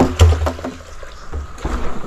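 A Jetmatic hand water pump is worked in quick, rhythmic strokes, each giving a close, low splashing gush of water over about two seconds.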